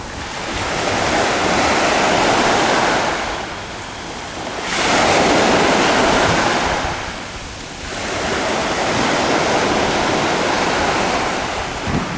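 Sea waves roll in and crash on the shore in three broad, loud surges, each swelling and fading into a steady wash with some wind noise, and no voices.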